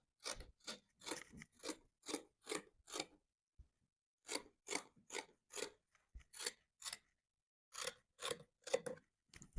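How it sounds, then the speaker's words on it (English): Scissors snip through dress fabric in close, crisp bursts, several quick cuts in a row, then a pause, then more runs of snipping, with no voices. "So I'm going to cut it out this way."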